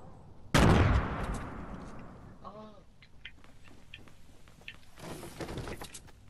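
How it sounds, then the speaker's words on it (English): Video game gunfire: a loud close shot or blast rings out and decays, followed by fainter scattered shots and bursts, with players talking over it. "they're shooting at me!"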